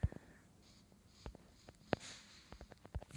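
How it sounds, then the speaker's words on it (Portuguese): Soft, sparse keyboard typing, scattered clicks and taps at an uneven pace, faint and close, with no voices. "Ele tá digitando."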